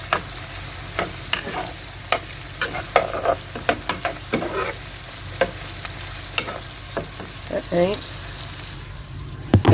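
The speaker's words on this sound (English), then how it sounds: "got oil's nice and hot, spam's cooking up" Spam frying in hot oil for a breakfast hash with onions, a steady close sizzle with repeated scraping stirs and utensil taps, and a brief spoken word over it.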